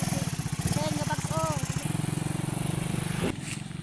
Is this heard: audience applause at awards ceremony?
no